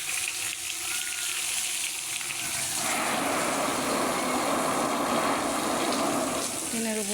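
A motor-driven water spray hits an asbestos and tin roof during hot weather, a steady close rushing hiss that thickens midway and carries on continuously with no talk.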